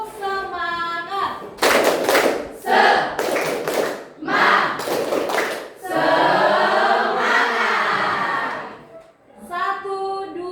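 A school class performs a rhythmic spirit clap, with loud bursts of clapping in distinct groups that alternate with chanted group voices.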